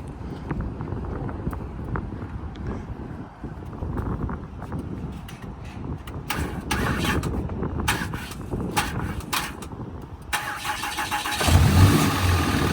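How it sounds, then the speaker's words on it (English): A Cummins diesel truck engine, jump box hooked up, cranks with clattering starter bursts, then catches and settles into a rough, rumbling idle close by, with some wind noise. "Has the Cummins diesel in it."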